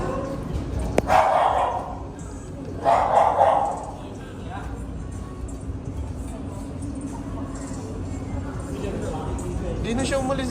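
Dogs at a dog cafe in Ari, Bangkok, give a few barks and yips nearby amid indoor background noise, with people talking over them.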